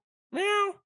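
A single short cat meow, drawn out and slightly falling, close by against silence.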